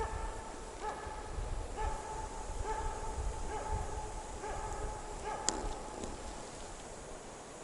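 A dog barks repeatedly in a forest, its calls spaced out and somewhat distant over a steady outdoor background hiss, with one sharp click near the end.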